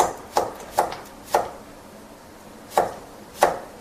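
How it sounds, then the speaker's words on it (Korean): A knife finely julienning cucumber strikes a cutting board in five sharp, crisp taps, evenly spaced at first and then after a short pause, heard close and alone. "역시 곱게 채를 썰어 가지고 찬물에 담가 주시면 되겠습니다"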